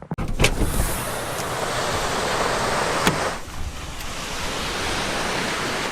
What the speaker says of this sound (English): This is Tokrau Beach here in Northland on the North Island of New Zealand.